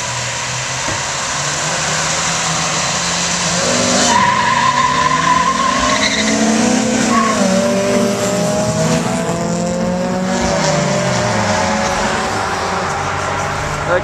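Several Honda Civics racing past a police car, engines revving loudly with tires squealing and skidding in long rising and falling sweeps, close and continuous over steady road noise.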